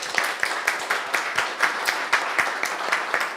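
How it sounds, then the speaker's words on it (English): Audience applause for the staff at a Korea-G7 cooperation forum, a steady patter of many hands clapping at moderate level with sharper individual claps standing out, no voices over it. "So let's please give the staff of the IAI a big round of applause."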